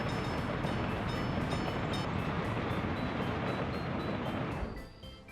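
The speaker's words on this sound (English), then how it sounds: "this is the first train making a delivery" In the game Workers & Resources: Soviet Republic, a train arrives with a delivery, giving a loud, dense rumble with steady rail clatter that holds and then fades out near the end, with no talk.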